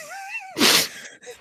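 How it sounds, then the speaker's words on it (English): A single sharp sneeze bursts out close and loud after a brief rising vocal sound on a podcast recording, followed by a short faint breathy exhale. "You just interrupted the show with a sneeze."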